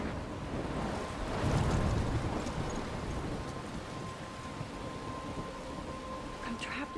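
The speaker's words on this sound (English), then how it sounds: "I'm trapped in a storm?" Storm ambience from the video game Life is Strange: a steady wash of rain with a low rumble of thunder swelling early on, continuous and fairly quiet, with no clear speech.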